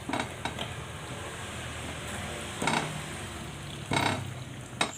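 Mie Aceh spice paste frying in oil in a wok, a steady close sizzle broken by a few louder scraping stirs of the spatula against the pan.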